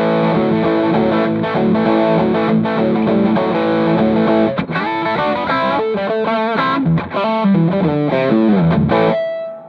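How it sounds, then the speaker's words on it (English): Electric guitar on the bridge pickup played through an overdrive pedal, a gritty, distorted tone strumming chords and then riffing single notes, loud and continuous before a ringing final note fades out. "let's go ahead and hear what the dirt sounds like on the bridge pickup on this guitar."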